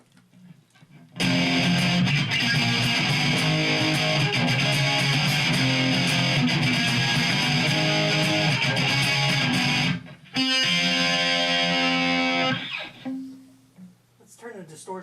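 An electric guitar plays a riff through distortion effect pedals, a loud, dense, saturated sustained tone with chugging chords that stops abruptly, then resumes briefly with a stuttering repeated pattern before fading.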